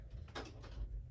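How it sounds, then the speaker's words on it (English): A door closing indoors at home, a short soft thud with a brief rustle, close and quiet, with no talk. "Let me close my door."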